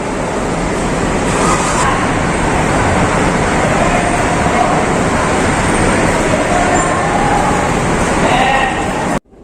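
A jeepney ride through night traffic toward Cruz Naligas, a dense, steady rumble of engine and road noise filling the cabin, loud and continuous with faint murmurs of people mixed beneath, cutting off abruptly at the end.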